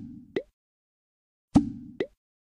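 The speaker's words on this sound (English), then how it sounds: "When the brine is ready, add salmon to the bucket." Salmon pieces dropped into a brine bucket in the Molly of Denali winter kitchen game, heard as three short, clean cartoon plops with soft bubbling between them.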